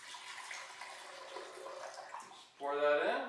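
Organic coconut water poured into a blender base for a breakfast drink, a soft steady trickling splash running for a few seconds under someone talking, then louder blending-like whir at the end.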